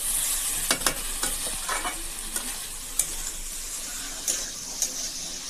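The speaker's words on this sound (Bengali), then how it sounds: "আমার কিন্তু কুমড়ো রান্না প্রায় ভাজা হয়ে গেছে" Pumpkin curry fries in a pan in a village home kitchen, a steady sizzle broken by repeated sharp scrapes and clinks of a spatula stirring, close and clear with no talk.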